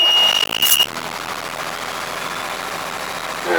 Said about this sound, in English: it's got a Mercedes, it's 230 horsepower, straight 6 diesel